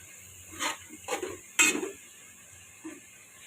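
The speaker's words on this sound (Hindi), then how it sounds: "थोड़ा सा हिला लें, क्योंकि हमने सब्जियों को थोड़ा थोड़ा फ्राई करना है बस ऑयल में" Cabbage and other chopped vegetables being stirred in oil in a pan for fried rice, three scraping clinks of a spatula against metal over a faint steady sizzle, then a softer final tap.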